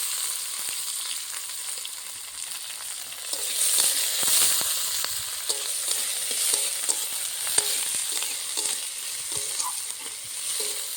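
Chopped ginger and green chilli sizzle in hot oil with onion and garlic for a Bengali egg curry, a steady soft frying hiss broken by the scrape and tap of a spatula stirring the pan.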